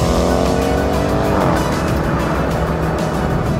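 A BMW M8 Competition convertible accelerates hard at speed during a drag race, its loud engine roar rising steadily through the gears with harmonic sweeps, continuous and close with no talking.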